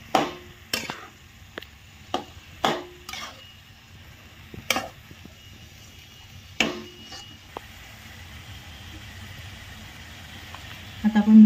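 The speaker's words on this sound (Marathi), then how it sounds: "अशी भाजी आपण हलवून घ्यायची सगळी" Spoon scraping and knocking in a pan while shepu (dill) bhaji is stirred, a series of sharp clinks and scrapes spaced a second or so apart over a faint sizzle, growing busier toward the end.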